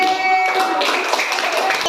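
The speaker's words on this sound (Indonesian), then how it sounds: "Terima kasih tepuk tangan Bapak B." A group of elementary school children claps in a classroom for a classmate, Bapak B, with brisk, close hand claps filling the moment while voices talk over them.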